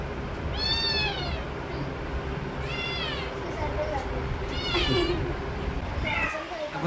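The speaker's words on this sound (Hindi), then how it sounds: "देखो बिल्ली का खाना खा रहा है ये" A cat meows four times in clear, drawn-out cries while it eats cat food, fairly close, over a steady background hum.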